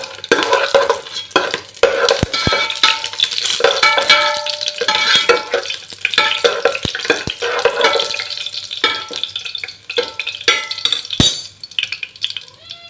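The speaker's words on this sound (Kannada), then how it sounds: "ಒಂದು ಎಣ್ಣೆ ಪಾಡ್ಯ ಇತ್ತ ಗರಂ ಮಸಾಲ ಪಾಡ್ಗ ಫ್ರೈ ಮಲ್ತಾನ" Garam masala frying in oil in a home kitchen pan, a continuous close sizzle with scraping stirs and clinks of utensil against the pan, no talk.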